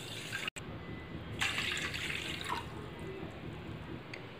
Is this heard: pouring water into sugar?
yes